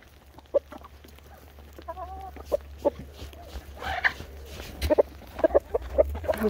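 Scattered short clucks from a chicken, some close and sharp, over a steady low hum with faint voices in the background.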